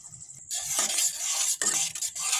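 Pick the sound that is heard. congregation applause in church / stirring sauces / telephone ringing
stirring sauces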